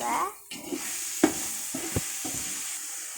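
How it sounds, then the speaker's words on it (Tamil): Tomatoes going into a hot pan for mutton biryani, giving a soft steady sizzle with a few sharp scraping stir strokes and clinks of a spoon against the pan, close and fairly quiet. "நம்ம தக்காளி போட்டுக்கலாம்"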